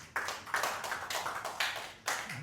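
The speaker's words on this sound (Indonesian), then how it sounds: "Tepuk tangan dulu untuk Tuhan Yesus." A few separate hand claps from an audience at a church gathering, isolated bursts spaced roughly half a second apart, moderately loud over a quiet room.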